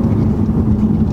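A BMW 330 E46's six-cylinder engine with forged connecting rods and VANOS gives a steady, close, deep drone, a smooth continuous rumble with a constant low tone and no break.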